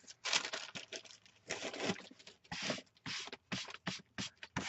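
Wet paper wads peeled and crumpled off packing tape, a close series of uneven tearing, crinkling and scraping bursts with brief pauses between, fairly quiet and with no talking.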